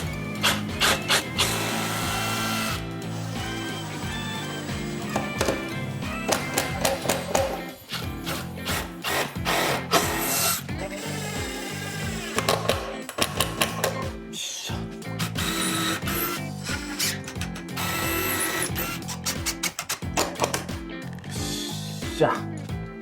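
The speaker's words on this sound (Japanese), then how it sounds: "この下からビス止めていきたいと思います。" A power driver runs screws up through the underside of a 200-year-old Hita cedar slab desktop, with repeated whirring bursts and pauses; someone talks between them in an old farmhouse workshop.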